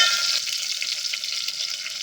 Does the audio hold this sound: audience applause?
no